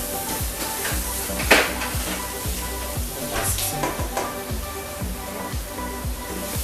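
Onions frying in a pot, a steady sizzle with a rhythmic series of scraping stirs and an occasional clank of the utensil against the pot, close and clear with no speech.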